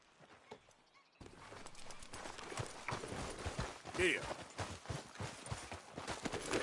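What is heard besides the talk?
horse hooves in video game Red Dead Online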